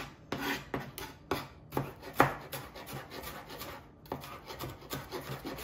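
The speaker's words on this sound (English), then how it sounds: "Go over the onions a few times." Onions are chopped with a knife on a board, a quick series of close, crisp cuts and scraping rubs in uneven bursts, with no talking.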